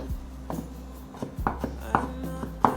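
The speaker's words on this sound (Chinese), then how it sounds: "香菇的角切下來，切碎。" A knife chops a shiitake mushroom into small pieces on a cutting board, a close series of sharp, crisp cuts at an uneven pace with no talking.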